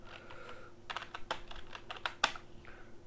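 Fingers typing on a computer keyboard close by, a steady run of light clicky keystrokes with a couple of sharper key taps, moderately quiet and with no one speaking.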